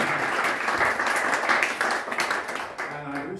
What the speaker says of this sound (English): I want to give Emily Davis a round of applause